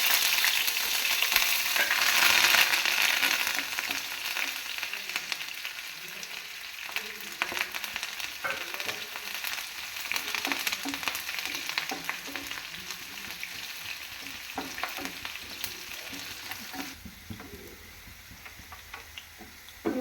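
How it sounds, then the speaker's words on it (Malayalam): Garlic, three green chilies, ginger and curry leaves sauté in a pan of hot oil for a lime pickle, giving a steady, close sizzle with stirring scrapes throughout, louder at first and easing slightly toward the end, with no talking. "ഇനി ഇത് വെളുത്തുള്ളി മൂന്ന് പച്ചമുളക് ഇഞ്ചി കറിവേപ്പില ഇത്രയും സാധനം നമ്മൾ ഇതിലേക്ക് ഇട്ട് വഴറ്റി കൊടുക്കും"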